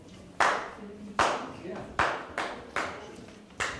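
A single person claps a dance rhythm, five sharp, evenly paced claps about a second apart, close and distinct over a quiet room.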